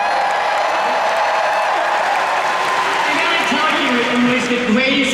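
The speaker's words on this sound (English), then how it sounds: "I can imagine it by the sounds of the crowd" A large crowd of fans at an Indiana Jones ride announcement cheering and applauding continuously, loud and sustained, with whoops rising over the roar.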